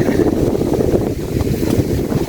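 Cool wind blowing outdoors, a loud continuous gusting rush buffeting the microphone for the whole stretch, with no voices over it.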